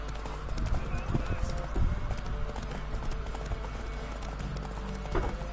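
Horse hooves clop in an uneven rhythm close by in The Witcher 3 video game, with faint background ambience and a short neigh-like burst near the end.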